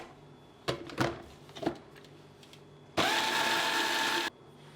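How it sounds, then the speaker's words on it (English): A food processor blitzes walnuts for a brown Linzer torte dough. A few sharp clunks and knocks come first, then one loud, close whirring burst of grinding that lasts just over a second and stops abruptly. "I'll start by placing the almonds in a food processor and blitz that to a fine powder"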